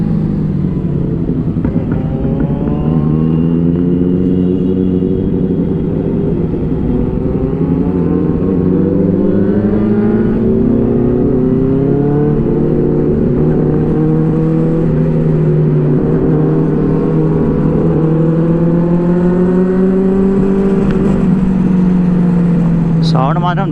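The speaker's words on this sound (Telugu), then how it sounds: "3 బైక్స్ ఎగ్జాస్ట్. మన z900కి వచ్చేసి ఆరో ఫుల్ సిస్టమ్ ఉంది" Several superbikes, including a Kawasaki Z900 with a full aftermarket exhaust system and a Benelli 600i, rev their engines at night in a steady, loud, throaty roar with rising and falling pitch, close by throughout with brief voices mixed in.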